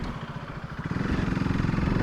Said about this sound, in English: It's a single cylinder race bike meant for racing.